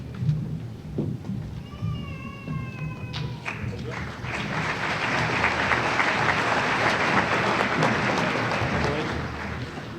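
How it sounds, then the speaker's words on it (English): A crowd at a graduation ceremony breaks into broad, sustained applause that swells in after a few quieter seconds of room sound and brief voices, then holds loud and dense to the end. "Please try to hold your applause till the end so everyone can hear their name."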